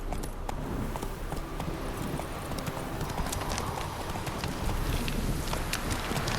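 In Witcher 3, the horse Roach gallops with a rapid, continuous clip-clop of hooves, loud and close, with faint wind behind.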